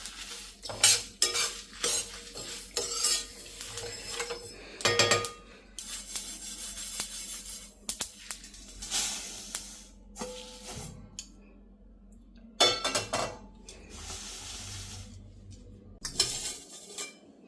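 A metal spoon scrapes spices out of a hot frying pan onto a plate, a series of close, sharp clinks and scrapes in irregular bursts separated by short quiet gaps.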